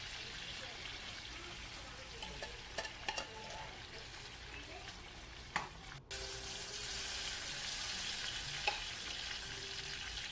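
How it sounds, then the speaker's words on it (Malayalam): Onions and tomatoes with crushed ginger and garlic fry in a pan for a Kerala-style squid roast, a dense steady sizzle with a few spoon clinks and scrapes, growing brighter and louder after a brief break midway. "തക്കാളിയെല്ലാം ഒന്ന് വഴണ്ട് വന്ന് വരുന്നുണ്ട്."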